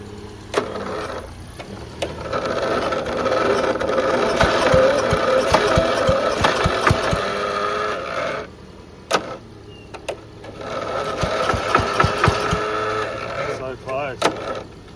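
An electric starter motor cranks the engine of a vintage Mini-Mow barn-find mower in two long bursts, whirring and chugging without catching, with a short pause between them and people talking nearby.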